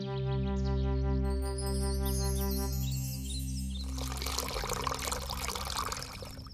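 Water poured out to wash a person's feet in a biblical drama, a splashing pour that rises over sustained music during the second half.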